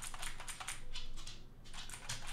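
Typing on a Redragon gaming keyboard, a rapid run of clicky keystrokes that fades briefly and then resumes, close and fairly soft, with no talking.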